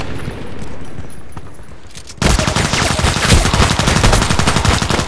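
Automatic fire from a Kedr SMG in the shooter game Contract Wars: after a quieter stretch, loud, dense rapid gunfire bursts in and keeps up, shot after shot, to the end.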